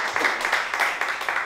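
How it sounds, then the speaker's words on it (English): Audience applause at a community poetry event in a public library, a steady patter of clapping hands at moderate distance with no voices over it. "This is where you applaud."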